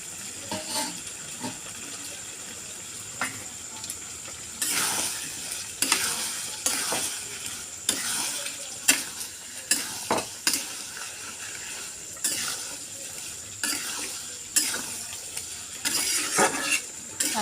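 Fried potatoes and soybeans frying in a pan under a steady sizzle, with repeated scrapes and clatters of a spoon stirring them, close and fairly loud, with no talk.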